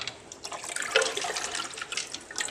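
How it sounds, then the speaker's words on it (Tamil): Water pours steadily into a fish breeding tank, a soft continuous splashing and trickling stream, fairly quiet and close, with no voices. "அப்படியே தண்ணி ஊற்றிடலாம்"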